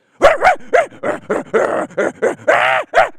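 A person imitates an angry dog's aggressive barking in a rapid string of about ten harsh, loud bark-like yelps, close and alone without other sound.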